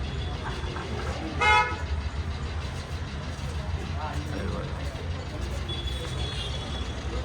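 A Dzire car arrives amid steady street traffic rumble in hilly Landour, with one short, loud horn toot near the start and faint voices in the background.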